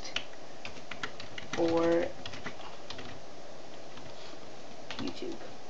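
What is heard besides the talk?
typing a title on a computer keyboard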